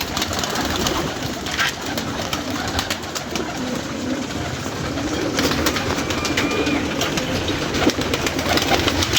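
Pigeons cooing near their keepers in a loft setting, soft repeated coos over a busy, noisy outdoor background, continuous throughout without speech.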